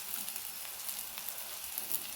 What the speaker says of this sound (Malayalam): അപ്പം കിടന്ന് പൊരിയട്ടെ, ചെറുതീയിലിട്ട് കൊടുക്കട്ടെ.